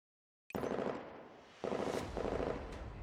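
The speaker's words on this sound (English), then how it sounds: "The sound of gunfire fills the air as the intensity of the battle heats up." Loud gunfire erupts suddenly after brief silence in a city-square battle in Girls' Frontline: Neural Cloud, a few heavy blasts rolling into rumbling, echoing bursts.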